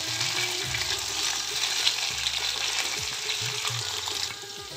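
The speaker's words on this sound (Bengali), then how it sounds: "দিয়ে লো হিটেই এটা নাড়াচাড়া করব" Mixed vegetables stirred in a pan over low heat give a steady close sizzle and frying hiss, with soft scraping and clinks from the spoon running throughout.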